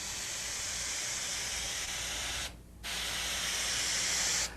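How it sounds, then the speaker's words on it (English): A loud, steady rush of blowing air fills the clip, cutting out briefly for a moment before resuming at full force. "there's a lot of power in that blower there"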